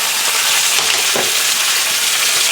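Onion, carrot and celery mirepoix sizzles in a stock pot with steady, loud hissing frying, near and continuous, with a faint stir partway through.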